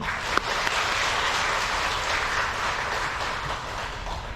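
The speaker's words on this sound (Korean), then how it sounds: "박수 한번 쳐주세요" Catholic congregation in a Korean church clapping together, a sustained, even roar of applause filling the room for over four seconds.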